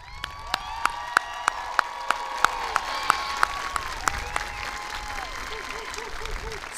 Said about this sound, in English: So join me in giving them a well-earned round of applause.